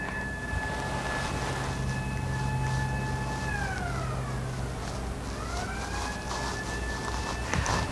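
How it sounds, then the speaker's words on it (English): An emergency vehicle siren wails in the distance on a rural road, its steady tone dipping and sliding back up once, faint and far off against quiet background noise. "We don't get sirens out here very often."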